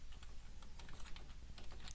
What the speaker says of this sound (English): why are we typing this again?